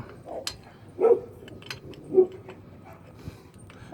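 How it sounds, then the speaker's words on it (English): A locked-up dog gives a few short, muffled barks spaced about a second apart, somewhat distant and alone against quiet background noise. "The dog is locked up."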